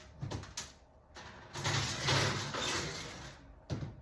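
An oven door thumps open, followed by a few seconds of rustling and handling, then closes with a soft knock.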